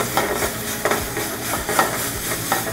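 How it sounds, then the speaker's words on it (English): Cold, hard diced butter whisked into a shallot and lemon juice sauce for fish, with loud rhythmic whisk strokes against the pan repeating about every half second over a constant sizzling hiss. "From there, we're just going to whisk in some butter."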